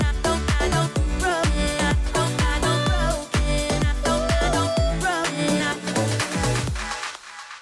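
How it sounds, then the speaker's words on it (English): A driving house track with a punchy four-on-the-floor beat, and repeating echoes from the break echo effect in Serato DJ Pro trail off the music before it cuts out near the end. "I use break echo in Serato DJ Pro"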